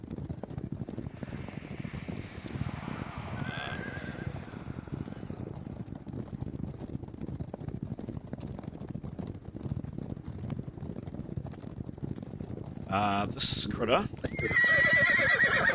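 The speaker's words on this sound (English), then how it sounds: "there is another scream of a horse" A horse screams in a canyon, a sharp whinny that rises suddenly near the end over constant wind and rumbling background noise, with someone speaking before it.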